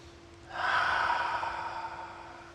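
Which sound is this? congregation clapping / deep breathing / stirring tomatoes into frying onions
deep breathing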